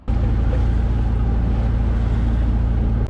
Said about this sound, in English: Now we get the nice hum of the engine back to sleep to.